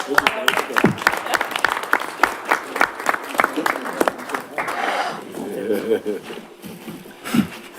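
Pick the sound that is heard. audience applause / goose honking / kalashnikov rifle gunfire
audience applause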